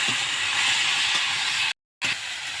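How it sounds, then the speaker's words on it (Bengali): Slit green chillies and vegetable stems fry in a pan with a loud, continuous, hissing sizzle that cuts out briefly to silence and then returns. "এখন আমি এখানে দিয়ে দেবো এই দেখো কাঁচা লঙ্কা আর ডাটা। কাঁচা লঙ্কাটা চিড়ে নিয়েছি আর ডাটাগুলো দিয়ে দিলাম। এবার আমি আরেকটু ভেজে নেব।"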